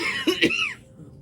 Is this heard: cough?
yes